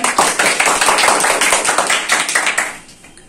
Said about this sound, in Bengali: সুন্দর, একটা করতালি দেন।